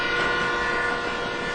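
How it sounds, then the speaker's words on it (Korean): A train whistle sounds a sustained, steady tone over a low rolling rumble of the train, loud and close, lasting the whole short stretch. "갑자기 비명처럼 기적 소리가 울렸다. 이어 길게 또 한 번."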